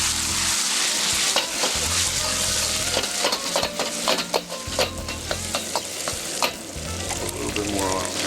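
Shredded beef stir-frying in oil in a wok, a loud steady sizzle broken by scraping and clattering strokes of the stirring utensil, with no voices.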